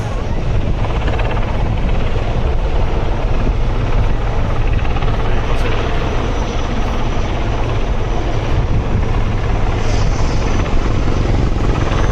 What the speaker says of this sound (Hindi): please watch closely as the two helicopters descend low over the assault boats